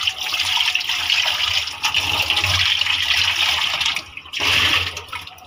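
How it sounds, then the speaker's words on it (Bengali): Cooking pot being washed with running water before making egg curry with potatoes, a close continuous splashing gush that briefly dips, then surges again, with no talking. "আলু দিয়ে ডিম রান্না করার জন্য পাতিলা ধুয়ে নিচ্ছে।"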